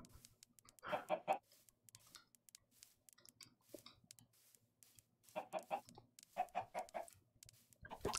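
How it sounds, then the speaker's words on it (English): Chickens in Minecraft give soft clucks in two clusters separated by a quieter stretch, with a voice talking faintly alongside them. "Four little chickens in a line."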